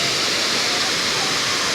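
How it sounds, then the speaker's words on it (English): Water rushing through a waterfall in Bulabog Putian National Park, Iloilo, Philippines, a loud, steady broadband roar filling the whole clip with no breaks. "water's coming through."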